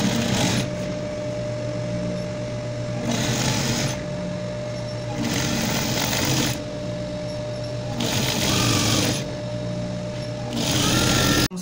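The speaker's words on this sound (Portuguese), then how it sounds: "Vou bater uma barra dessa grossura aqui" A sewing machine hems the bottom of a wrap dress in five or six close, buzzing bursts of rapid stitching, separated by short pauses, with no talking.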